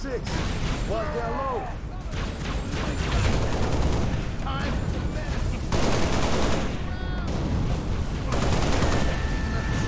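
Gunfire in the Halo Reach campaign: dense bursts of automatic weapon fire and heavy shots run through the whole stretch, loud and continuous, with game effects and chatter mixed in.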